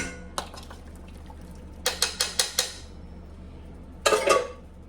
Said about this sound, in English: And I got the sour cream. A spoon of that in there.